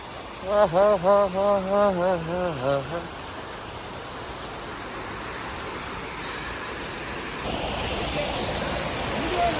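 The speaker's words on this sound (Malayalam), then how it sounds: "കൂടെ ഇവിടെ വെള്ളം ഒഴുകി നോക്ക്" Steady broadband rush of water flowing at a waterfall in Valparai, India, fills the scene, with a person singing a short wavering tune over it at the start.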